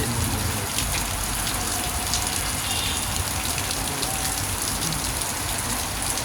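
Heavy rain pours steadily, a dense, even hiss of drops drumming on surfaces and splashing water, constant and loud with no voices.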